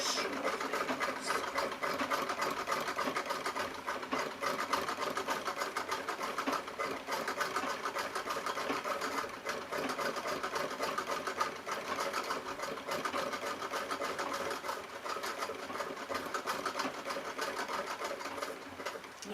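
A sewing machine stitches filler stitches and snowflake patterns through layered fabric, a steady, close mechanical whir with rapid needle chatter running unbroken throughout.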